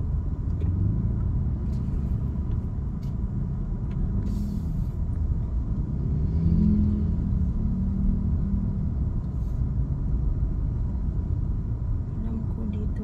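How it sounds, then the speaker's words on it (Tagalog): Road traffic rumbles steadily nearby, with cars and heavier vehicles passing in a continuous low drone and a faint hiss of brakes now and then. "It's traffic here."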